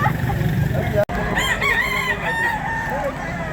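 A fighting rooster at a gamecock sale gives a loud, close crow with a rising and falling cock-a-doodle-doo pattern over a noisy background of other fowl and crowd sounds.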